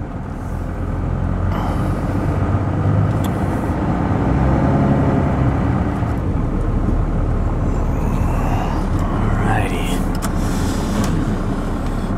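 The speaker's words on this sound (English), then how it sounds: "hopefully you can hear that Cummins 12 valve" A truck with a Cummins 12 valve diesel engine drives in traffic, a steady low engine rumble and road drone heard from inside the cab, with brief passing noises over the constant hum.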